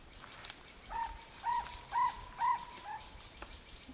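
Bird calling over dry farmland in India, a faint series of four or five evenly spaced hooting notes about half a second apart, distant over a soft outdoor background hiss.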